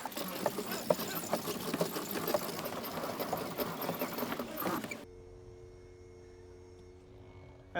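An outboard motor on a Wellcraft boat tilts up, first with a busy, rattling mechanical chatter, then a quieter steady electric hum that holds to the end.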